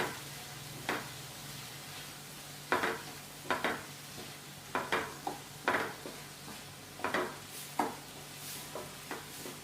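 A spoon stirs tomato sauce through a Spanish omelette mixture in a pan, making a quiet low sizzle broken by a dozen or so sharp scraping strokes in an uneven rhythm, close by with no talk.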